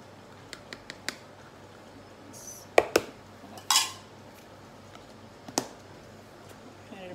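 Flour and baking powder stirred together in a bowl for vanilla cake batter, with sparse, sharp clinks and taps of a utensil against the bowl and a few louder clanks, close by over a quiet background.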